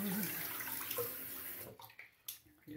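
Tap water runs to wet an alum stick during a shave, a soft hiss of running water that stops partway, followed by faint handling sounds.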